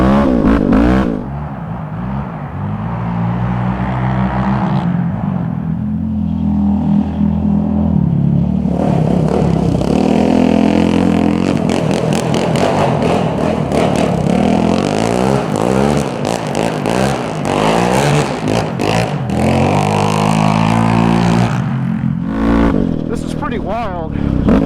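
A Yamaha Raptor 700 ATV engine drones and revs loudly and close while riding through snow on snow tires, its rumble rising and falling steadily throughout.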